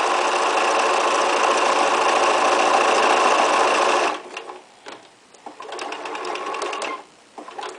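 A sewing machine stitches free-motion appliqué with an open-toe appliqué foot, running steadily and loud for about four seconds, then stopping and starting in short uneven bursts.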